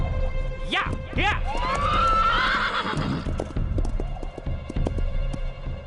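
A pony whinnies in a long rising-and-falling call over steady galloping hoofbeats, with a voice shouting briefly nearby.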